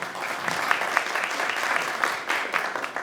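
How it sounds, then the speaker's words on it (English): Audience applause for a conference panel at an ASEAN and China dialogue event, a steady, dense clapping from a seated crowd that holds at an even level for about three seconds with no talk over it. "maybe another round of applause for our first panel"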